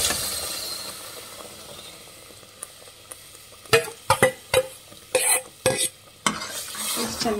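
Cooked lentils are stirred into a sizzling cucumber sambar masala for Mangalore-style sambar, with a ladle scraping and clanking against the pot in irregular bursts over a low, steady frying hiss.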